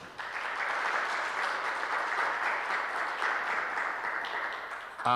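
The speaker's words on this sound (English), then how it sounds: "Please give her another big round of applause." Audience at a heritage-month launch event gives a sustained round of applause, a thick, even roar of many hands clapping that holds steady for several seconds before cutting off.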